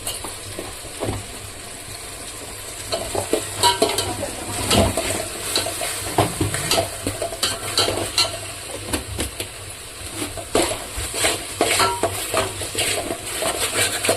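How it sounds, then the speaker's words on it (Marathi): Biryani masala stirred and fried in a pan with salt until the oil separates: a soft sizzle under repeated scraping and clinking of a spoon against the pan, uneven and close by, with no one speaking. "मिक्स करून तेल सुटेपर्यंत याला फ्राय करून घेऊ मस्त मसाल्याला"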